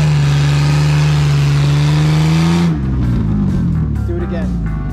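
A car engine in a gravel-pit romp drive revs steadily, then drops in pitch as the vehicle drives through, with a louder rumble close by; an instructor's voice talks over it.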